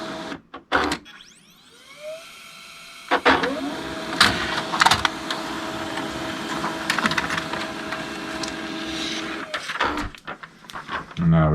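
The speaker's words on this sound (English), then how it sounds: "Now it's going to come out and print." A printer used for etching feeds and prints a lightsaber etching design, a steady mechanical whir with clicks and rattles running for several seconds while a person talks nearby.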